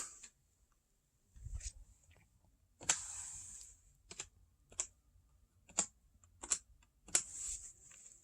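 Close keyboard taps entering a password on a computer, a handful of separate clicks spaced irregularly with a short burst of faster keystrokes, fairly quiet with no voices.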